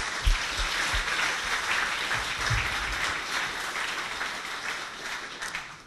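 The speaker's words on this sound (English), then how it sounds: "So I'd like to maybe a round of applause to the Sea Life team once more." An audience at a Low2No competition results launch event applauds the Sea Life team, a dense, steady wash of clapping that holds evenly for about six seconds, with a few low thumps near the start.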